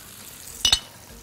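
Onion frying in oil in a pan makes a constant low sizzle, broken by two quick metallic clinks of a spoon stirring against the pan.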